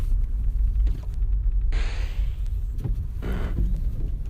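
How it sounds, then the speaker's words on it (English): A car engine rumbles low and steady in the background, a constant throbbing hum heard nearby with a couple of brief brighter whooshes passing over it. "It's like you can hear my car."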